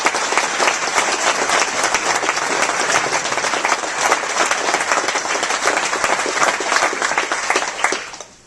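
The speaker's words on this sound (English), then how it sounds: "Let's give a round of applause to our speakers." An audience at a leadership breakfast gives sustained, dense applause for the speakers, loud and steady throughout before tapering off at the end.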